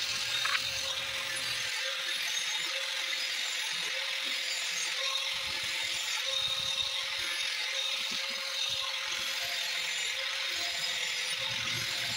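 Mechanical grinding of lawn mower blades being sharpened while work continues under the deck, a steady continuous whine with faint ratcheting clicks running throughout, no talk.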